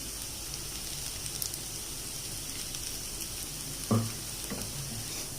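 Ivy gourd (kovakkai) fries with spices in a pan, a steady, even crackling sizzle that continues throughout, close but fairly soft, with one brief clatter near the end.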